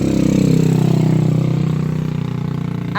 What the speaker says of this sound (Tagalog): napakaingay ng motorsiklo guys.